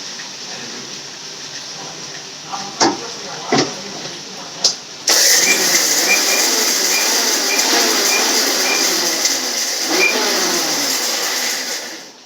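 A kitchen mixer grinder starts with a few short bursts, then runs steadily and loudly for several seconds before stopping; the grinding is for tamarind rasam with pepper, garlic, curry leaves, coriander and tomato.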